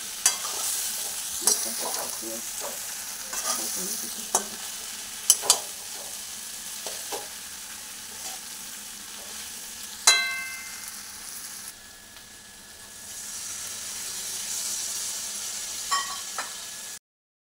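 Potatoes fried with spice paste in a pan for a home-cooked Sunday recipe: a continuous close sizzle with scattered stirring clicks and scrapes, plus one sharp metallic ring midway.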